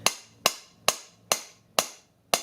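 A hammer strikes a homemade shin guard with a thick steel plate and padding inside, six sharp metallic knocks at a steady rhythm, close and clear with no talking.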